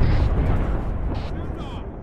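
Enemy mortar rounds exploding in Arma 3 during a Vietnam-era military simulation mission, a short stretch of rumbling, thudding blasts heard under radio-style talk.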